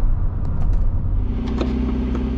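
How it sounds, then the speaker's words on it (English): A car cruising at highway speed, heard from inside as a loud, steady low rumble of engine and road noise with faint ticks and clicks on top. "I'm just gonna take it up on the highway now and get it up to speed"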